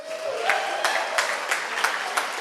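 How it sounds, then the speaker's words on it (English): A short burst of audience applause for the host organization at a community panel discussion, scattered claps over a crowd wash with a few sharp louder hits, brief and fairly close. "I also want to hear some applause for the Rosewood Initiative for hosting us."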